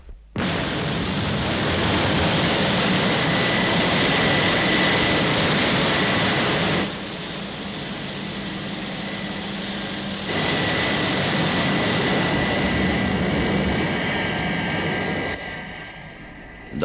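Aircraft engines roar loud and steady in a 1964 Thunderbirds-style runway scene, a broad sustained drone with a sharp onset, dipping briefly midway before surging back, then tapering at the end.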